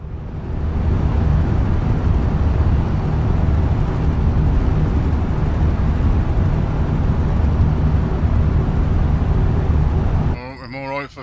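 A helicopter hovers over an accident scene in Euro Truck Simulator 2, a loud, steady droning rumble that holds for about ten seconds before cutting off abruptly into a brief different sound.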